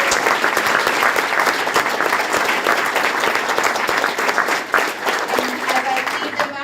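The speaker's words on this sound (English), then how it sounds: "So let's give them another big round of applause." Audience at a board of education meeting giving a sustained round of applause for Mark Twain students, loud dense clapping from many hands, steady throughout with faint crowd murmur.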